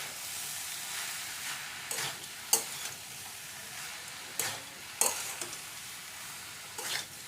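Spoon stirring milk into a spiced vegetable chop filling in a pan, quiet continuous sizzle with several sharp scraping strokes against the pan spaced a second or two apart, no talking.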